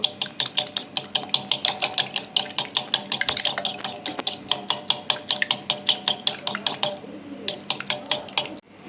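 Four eggs with a little salt beaten briskly in a bowl with a spoon, a fast steady run of close clicking strokes against the bowl's sides, with a short pause near the end.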